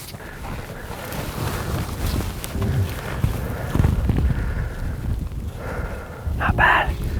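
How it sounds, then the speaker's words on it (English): Wind blowing across open hunting country where a mule deer is being stalked, a steady broadband rush buffeting the microphone with gusts that swell louder toward the end, plus a few faint knocks and rustles. "The wind's starting to pick up a little bit"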